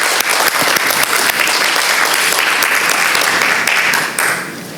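A conference audience gives sustained, dense applause for Andres Cortázar, steady and full throughout before easing slightly at the very end.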